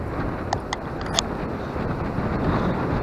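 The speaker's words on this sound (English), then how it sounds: "We'll see about on a 24 mile an hour windy day." Wind at about 24 miles per hour roars steadily and buffets the microphone in a low, continuous rush while urban fishing, with a few brief clicks and knocks breaking through.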